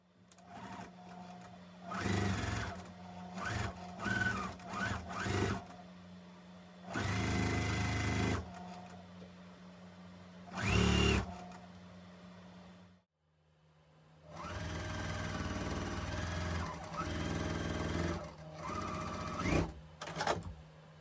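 A sewing machine stitches the final seam of a pressed flowers quilt block in several bursts of rapid, steady whirring, separated by short pauses and one longer break.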